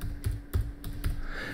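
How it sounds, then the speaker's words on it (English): Keys on a computer keyboard tapped in four quick bursts while typing a node name in the Godot 3.2 game engine, close and fairly loud with no talking. "So press the plus button and just start typing canvas."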